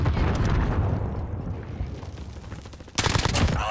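Explosives going off in Call of Duty Warzone: a dense rumbling gunfire-and-blast mix that fades down, then a sudden loud detonation burst at the end, close and heavy.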